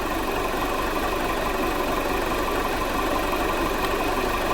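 A 2014 Jeep Patriot with the 2.4 engine, overheating, idles steadily up close, a continuous even mechanical hum with a faint rattle and no talk over it.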